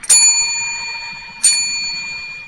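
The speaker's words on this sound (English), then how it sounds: "Also, we have this bell." A small bell, tapped lightly at a cemetery, rings out twice about a second and a half apart. Each clear, bright ding lingers and slowly fades against faint outdoor background.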